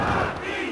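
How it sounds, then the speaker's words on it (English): A capacity wrestling arena crowd in WWF War Zone roars in one loud, dense wash of cheering that lasts under a second. "Listen to this capacity crowd. They can't get enough."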